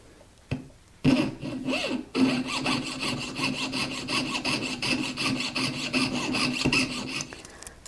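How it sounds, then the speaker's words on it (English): A jeweler's saw cuts out metal for a forged ring in quick, even back-and-forth strokes, close and continuous after a few tentative starts. "now I'm going to cut that out with my jeweler's saw"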